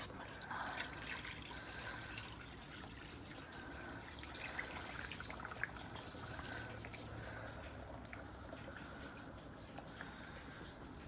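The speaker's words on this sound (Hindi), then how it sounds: "मनी प्लांट में हम पानी डाल दें ज़रा।" Water poured onto a potted money plant gives a steady, soft trickling splash that runs nearly throughout, fairly faint and even, with no talking.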